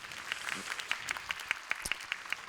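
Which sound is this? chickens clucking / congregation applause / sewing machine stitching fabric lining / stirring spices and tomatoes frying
congregation applause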